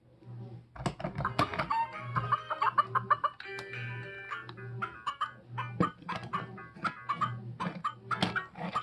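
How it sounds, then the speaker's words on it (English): A hen clucks near her chick in a steady run of soft, repeated clucks and chatter, with some brighter calls mixed in, fairly close and with no talking. "Watching the chicken with her baby."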